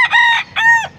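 A rooster crows twice in close succession at a poultry sale in Pampanga, two loud, near, drawn-out harmonic calls with a short gap between them.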